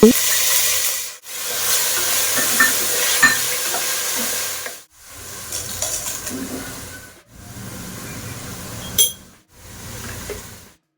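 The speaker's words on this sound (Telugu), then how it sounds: "ఒక టూ టేబుల్ స్పూన్స్ అల్లం వెల్లుల్లి పేస్ట్ యాడ్ చేసి పచ్చివాసన పోయేంత వరకు ఫ్రై చేసుకోవాలి" Onions frying with ginger garlic paste in a pan give a loud, steady sizzle and hiss with stirring scrapes, cut by a few short pauses, and no one talks.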